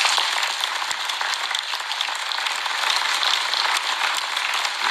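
Steady audience applause for the director general of services at a municipal New Year's greetings ceremony in Dol-de-Bretagne, a dense, even wash of clapping that holds at full strength for the whole stretch with no talk over it.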